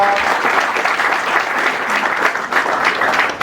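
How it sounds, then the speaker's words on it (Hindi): An audience at a student import-export seminar clapping after the national anthem: loud, dense and continuous applause from a large room, steady throughout with slight swells and no talk over it. "दो तालियां हो जाए"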